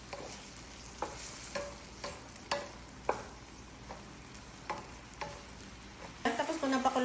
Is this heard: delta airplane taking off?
no